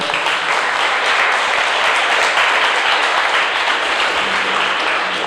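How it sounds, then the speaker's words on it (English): An audience at a mental health awareness session breaks into steady, loud applause, a dense and continuous clatter of many hands held at an even level throughout. "So thank you for them. Let's clap for them."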